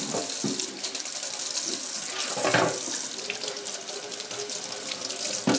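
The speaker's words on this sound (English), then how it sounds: "Now run it through some warm water and lightly scrub with an old toothbrush." Tap water running steadily into a sink, splashing and gurgling as stove grates are rinsed and scrubbed beneath the warm stream, close by, with occasional clinks.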